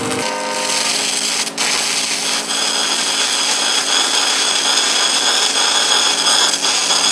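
SMAW stick welding lays a tack on 6-inch schedule 40 pipe, giving a steady, close crackling hiss that runs without pause for several seconds.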